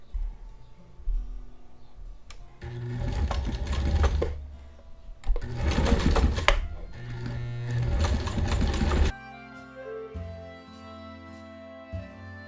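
A domestic sewing machine runs a zigzag seam along fabric near the presser foot, in several close, loud bursts of rapid stitching with brief pauses between them, then stops as quieter tones take over.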